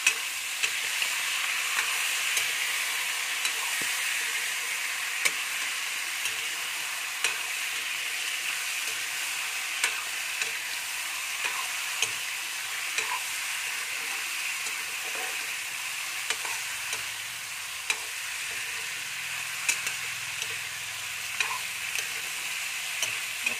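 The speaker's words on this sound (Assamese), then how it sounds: "মাংসখিনি ধুনীয়াকৈ মই হিলাই দিম।" Chicken meat frying in a pan for an Assamese local chicken curry, a steady bright sizzle with soft scraping stir strokes repeating at a regular pace throughout, close and continuous with no talk.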